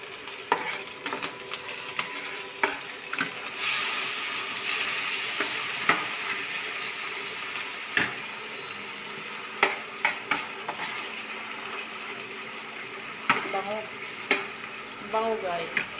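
Corned beef sizzles steadily in a pan for a breakfast dish with potatoes, with frequent scraping, clinking stirs of a utensil against the pan throughout and no talking.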